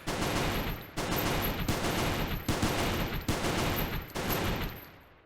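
Rapid gunfire against mechs in the space station game Space Station 14 (Goobstation) rattles in dense sustained bursts, loud and continuous with brief gaps roughly every second, with no voices over it.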